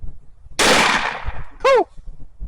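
A lever-action mare's leg gun fired outdoors at a range, with one loud sharp blast followed by a quick metallic ringing, close and brief.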